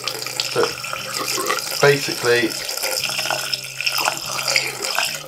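Caustic soda solution, lye, is poured slowly down a blocked sink, a running, splashing liquid stream heard close alongside some brief talk.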